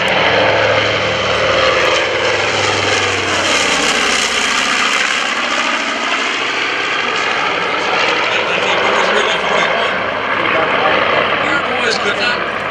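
Warbird propeller aircraft flying past at an airshow, a loud sustained engine drone that swells and shifts in pitch as the plane passes, with crowd chatter faintly underneath.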